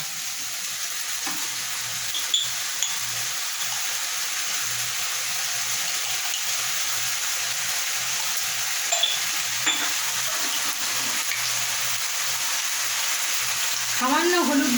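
Potol posto, pointed gourd in poppy seed paste, sizzles and fries steadily in a pan while being stirred, with a few soft clinks of the spoon against the pan and a brief watery splash near the end.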